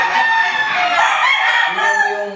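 A young stag rooster, a gamefowl, crows loudly and close, one long drawn-out call with a rising and falling pitch, alone without voices.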